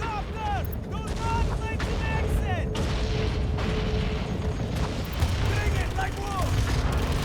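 Dense battlefield gunfire from the near-future war game Tom Clancy's EndWar, a continuous roar of shots and booms with radio-style chirps and beeps layered over it throughout.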